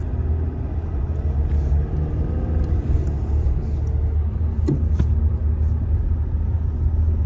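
The engine of a manual-transmission Mitsubishi Montero Sport hums at low RPM with a half-engaged clutch, a steady, loud, deep rumble from inside the cabin with a couple of faint clicks.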